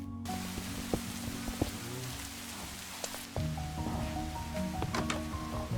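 Rain in the Minecraft video game falls as a steady soft hiss, with scattered small clicks and game noises layered over it and a brief shift in the background partway through; no voices.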